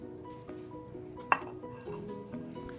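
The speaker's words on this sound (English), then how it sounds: "Mix it very well." A spoon mixes chana dal dosa batter with chopped onion, cilantro and curry leaves in a bowl, making soft clinks against the bowl and one sharp, bright clink, fairly faint and close.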